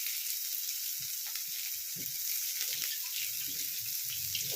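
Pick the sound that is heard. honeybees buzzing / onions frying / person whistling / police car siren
onions frying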